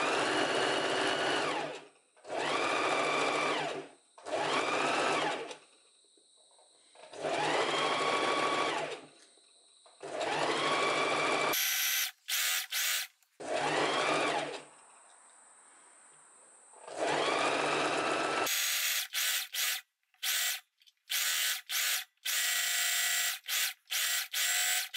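A sewing machine stitches fabric for a mini skirt, running in several loud close bursts of rapid whirring, stopping and starting, with shorter choppy runs near the end and no talk.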